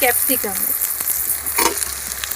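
Capsicum, carrot and beans frying in ghee and oil in a pan, with a loud, close sizzle and quick spatula scrapes and clinks over it.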